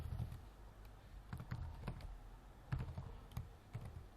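Soft, irregular keystrokes on a computer keyboard, tapped in short bursts with small pauses between them, close by and faint in an otherwise quiet room.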